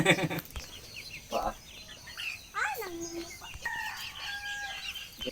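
Chickens cluck and a rooster crows mid-clip, with scattered bird calls and some voices in the background.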